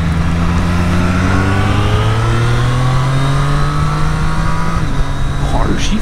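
A 2023 Triumph Street Triple 765 RS pulls hard, its engine rising steadily in pitch with quick, clean quickshifter gear changes cutting the note, loud and close, while a rider talks over it.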